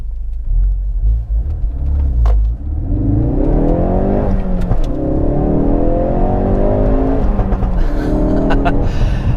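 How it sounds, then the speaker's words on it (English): A Ford Focus RS Mk3 engine rumbles and revs up through rising gear-like sweeps as it accelerates away in first gear, steady and fairly close throughout. "if I go into first gear and accelerate away"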